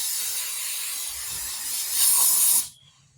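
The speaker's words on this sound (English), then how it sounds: "I'm going to take a little bit of brake clean and spray this off" A steady aerosol hiss of brake cleaner being sprayed during a Toyota RAV4 oil change, growing slightly louder near the end before stopping abruptly, leaving quiet.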